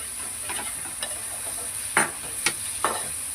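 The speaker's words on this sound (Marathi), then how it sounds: "चांगलं भाजून घेऊया मस्त तेल सुटेपर्यंत." Tomatoes roasting in oil in a pan for a Konkani-style prawn masala, a soft steady sizzle broken by a few sharp stirring scrapes and taps, close and moderately quiet with no talk.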